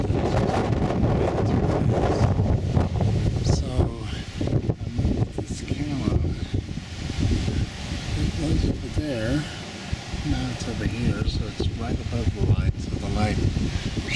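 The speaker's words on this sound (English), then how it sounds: "Wind's kicking up even harder now" Strong, gusty wind from a September cold front roars steadily across an outdoor microphone, with buffeting broadband rumble throughout; a person talks intermittently over the wind.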